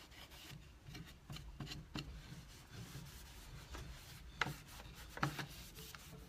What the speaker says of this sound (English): with wax, it really is you just rub it in and then you rub it off